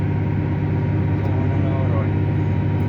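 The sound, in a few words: tractor ploughing with Lemken Eurodiamant 10 plough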